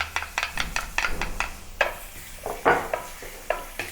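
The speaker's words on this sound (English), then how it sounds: "let's add some oil and saute the aromatics" Ginger, garlic and white scallion sautéing in oil in a pan for Chinese fried sauce noodles, with a soft sizzle under repeated spatula scrapes and stirring clatter, close up and without talking.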